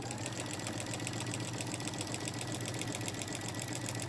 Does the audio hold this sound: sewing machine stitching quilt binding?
yes